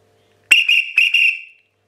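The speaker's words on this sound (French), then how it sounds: "Nous avons en fait un petit sifflet à roulette." A small pea whistle with a rectangular mouthpiece, freshly finished with steel wool, blown in four short shrill blasts in quick succession, close and loud, with its trilling rattle; no talking.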